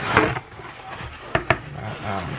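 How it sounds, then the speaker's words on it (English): A spoon stirs ingredients in a mixing bowl during home Thanksgiving dinner cooking, giving close scraping and rubbing strokes with two sharp knocks near the end; no talking. "so I'm stirring that in"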